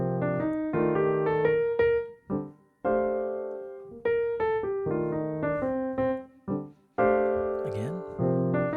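Jazz piano plays a 2-5-1 progression with a scale-based eighth-note line over the chords, phrases broken by short pauses, moderately loud with no voice heard.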